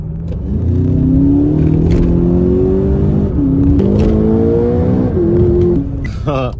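A car engine revs repeatedly up and down, loud and close, with rising whines between gear changes, then drops off at the end.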